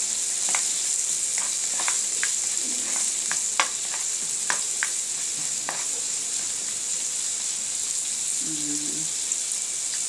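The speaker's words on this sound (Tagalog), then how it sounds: "Sabayin natin siya iluto habang pinitrito ko yung isda." Fish fries in a pan with a continuous bright sizzle and scattered sharp crackles and pops, heard close up, with a brief voice in the background.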